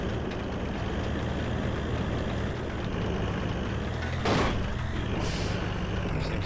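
A 6x6 military truck engine drones steadily and loud in a driving game, a constant heavy rumble with a brief hiss and clatter midway, no voices.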